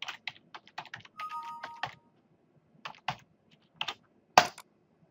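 Someone types a username and password on a computer keyboard: quiet, close clicks in short irregular bursts with pauses, ending on a firmer keystroke, and no speech.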